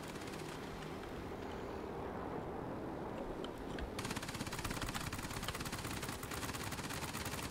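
Aircraft machine guns firing in World of Warplanes, a steady rapid rattle of automatic bursts that thickens into a dense continuous stream midway through, heard quietly over a constant engine drone.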